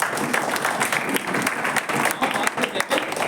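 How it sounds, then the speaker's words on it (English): Audience applause at a Toastmasters oath-taking and installation ceremony, a dense, steady burst of clapping from many hands that holds at full strength throughout, with no voices over it. "Let's have a huge round of applause."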